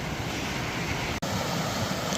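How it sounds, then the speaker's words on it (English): A small waterfall swollen with water pours beside a hiking path in the Ardennes, a steady broadband rush that stays close and constant with no voices. "Cool little waterfall on the side of the path here."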